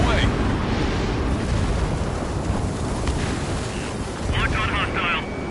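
Dense roaring blasts and rushing air fill a jet combat scene in the video game Ace Combat 7 as a missile launches and detonates, a loud continuous wash of noise with a voice speaking over it.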